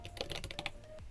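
Fast, close clicking of computer keyboard keys as a search term is typed into a design website's search bar, about eight crisp keystrokes in quick succession with no voices.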